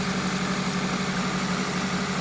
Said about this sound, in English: the engine is running just perfect